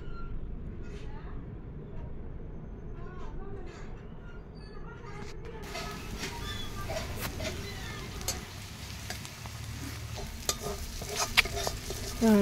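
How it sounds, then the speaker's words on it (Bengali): Spice paste sautés in a little oil in a pan while buffalo meat curry is prepared, a steady low sizzle broken by scraping and stirring clatters that grow louder and busier toward the end, with background noise throughout. "মশলা কষানো হয়ে গেছে"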